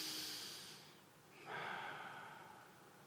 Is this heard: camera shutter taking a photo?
no